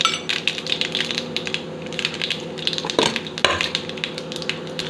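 Mustard seeds, urad dal and chana dal fry in hot oil with a steady dense crackle and sizzle, punctuated by a few sharper pops and clicks, close and with no voices.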